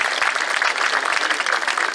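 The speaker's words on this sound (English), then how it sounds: "want to hop on a nice round of applause for Brennan Marine and Merchants Bank." An outdoor summer concert crowd gives a short, steady round of applause for sponsors, a dense and fairly close clapping texture that holds even from start to end.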